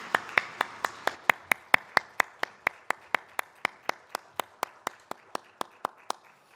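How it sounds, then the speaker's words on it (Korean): Steady rhythmic clapping from a church congregation during a Sunday worship service, about twenty even claps in unison at a brisk pace, fairly close and with no talking over it. "하나님께 영광의 박수 올려드리겠습니다."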